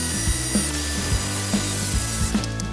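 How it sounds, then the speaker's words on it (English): A jigsaw cutting through two lined-up wood pieces for a birdhouse, giving a steady, loud, close buzzing drone with regular rhythmic ticks as the blade moves slowly through the cut. "that will assure us that these are not going to move while we cut it with the jigsaw"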